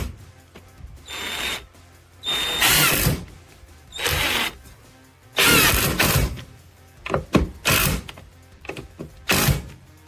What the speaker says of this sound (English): Another thing this is really useful for is for driving screws